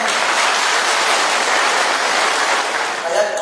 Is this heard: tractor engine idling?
no